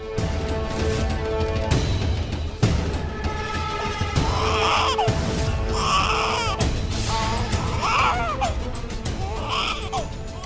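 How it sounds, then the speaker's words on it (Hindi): An infant cries in repeated wailing bursts over a dense background of music and noise. "शायद बच्चे की रोने की आवाज इधर से आ रही है।"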